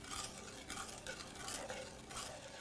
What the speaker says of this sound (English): The next step is to put in 1/2 cup of our heavy cream. And mix that thoroughly.